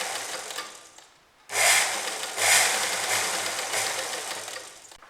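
A sewing machine stitches canvas along the back neck edge of a garment, starting after a quieter lull into a steady, close mechanical whirr that runs continuously with slight speed changes.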